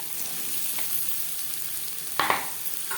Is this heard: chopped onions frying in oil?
yes